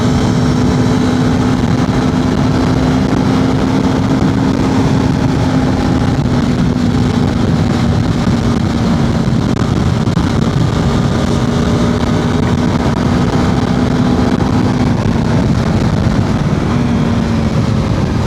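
A BMW F 450 GS motorcycle is ridden at a steady cruise, with a constant engine drone plus strong wind and road rush filling the whole stretch. No talk is heard.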